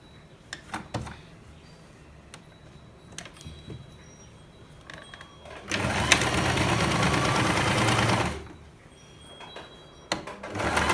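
A sewing machine runs in one steady burst of about two and a half seconds while stitching a pillow cover, loud and close. Quiet handling clicks and thumps come before and after.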